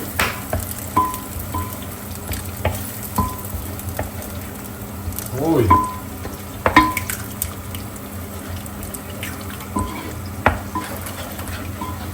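Eggs are stirred in a frying pan with a soft sizzle underneath, punctuated by scattered scrapes and clinks of a utensil against the pan, close by, with brief quiet voices.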